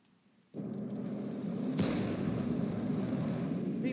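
An M44 self-propelled artillery gun fires in a tank video game: a heavy, close blast with a sharp crack about a second in, followed by a long, rumbling roar that does not fade.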